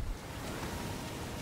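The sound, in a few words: waterfall in Darksiders video game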